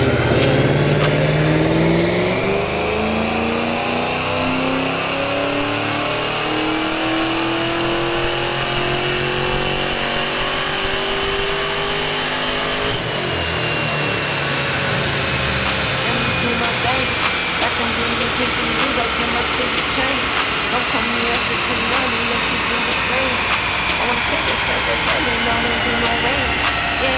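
Ford GT500 on a dyno, its engine revving hard and continuously through a full pull, a loud sweeping roar climbing in pitch for several seconds and then holding a harsh high-rev blare.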